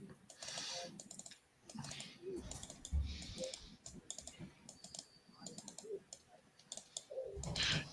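Light, irregular clicks of a computer mouse and keys, close and fairly quiet, scattered through a stretch with muffled room noise and some faint voice-like sounds in the background.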